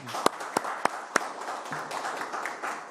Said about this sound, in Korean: 다시 한 번 더 영예롭게 떠나시는 우리 이차원 간사님께 크게 박수 한번 부탁드리겠습니다